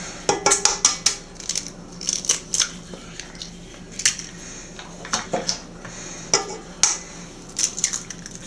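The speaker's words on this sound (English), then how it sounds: "we're going to add our 4 eggs in" Four eggs are added to carrot cake batter: a run of sharp, close clicks and taps from shells knocking against a bowl, coming in quick uneven bursts with short pauses between them.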